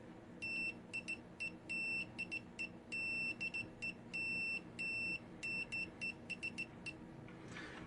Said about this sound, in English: We'll try continuity test.